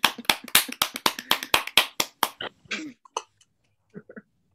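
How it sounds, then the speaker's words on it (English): Clapping over a video call after an art book discussion, a quick run of sharp close claps from one or two people that thins out into a few isolated taps and a cough. "Can we give the residents a round of applause? You guys can clap on camera"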